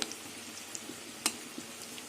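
Kachki fish pakoras frying in oil, a faint continuous sizzle dotted with small pops and bubbling ticks, one sharper crackle in the middle.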